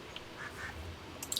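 Agitated ducks quack in a World of Warcraft game scene, a few short quacks spread across the moment, with a quicker burst of them near the end, moderately loud over a low ambient background.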